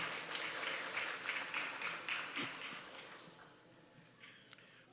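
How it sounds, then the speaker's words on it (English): Audience applauding at a secondary school graduation ceremony, a crowd's clapping rising briefly then gradually fading away, with a few scattered claps near the end. "Give her another round of applause, ladies and gentlemen."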